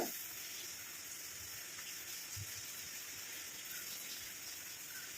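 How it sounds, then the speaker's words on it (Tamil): Steady hissing, bubbling rush of a dark-colored mixture at a rolling boil in a pot, constant and fairly quiet, with a few soft low pops. "இப்போ கொதிக்க ஆரம்பிச்சிருச்சு பாருங்கள்"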